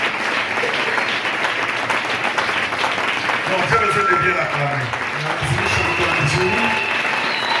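A church congregation at a Sunday service in Lubumbashi applauds its pastor with loud, sustained clapping while a voice speaks over it.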